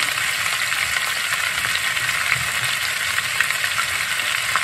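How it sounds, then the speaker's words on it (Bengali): Carrots frying in a pan for Bengali shukto while being stirred, a dense steady sizzle with light scraping, close and continuous, no voices. "ক্যারেটটা দিয়ে দিলাম। এবার একটু নাড়বো।"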